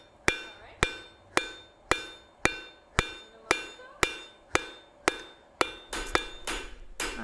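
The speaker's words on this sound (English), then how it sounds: "my other one's ready to start hammering on" A hot metal pin is hammered at a forge, about thirteen sharp ringing blows struck at a steady, roughly half-second rhythm, each ringing out briefly before the next, close and clear with no talking.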